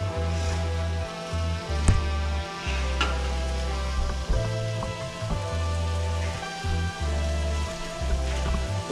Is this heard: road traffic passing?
no